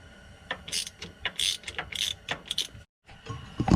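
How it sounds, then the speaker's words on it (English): A ratchet clicks in short bursts as it loosens nuts on a VW Beetle axle tube, with close, sharp metallic clicking and brief pauses. "I'm just going to loosen those nuts right there, and then we'll be ready to press this thing off."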